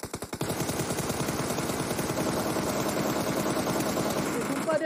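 Rapid automatic gunfire from a battle royale shooter game rattles loudly and continuously, a dense stream of shots after a few opening bursts, with no pause.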